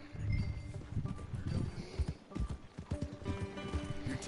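Horse hooves clip-clop at a trot in the video game Red Dead Redemption 2, a steady close rhythm with a whinny mixed in, fairly quiet with in-game ambience.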